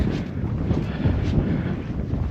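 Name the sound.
cold wind blowing on a misty mountain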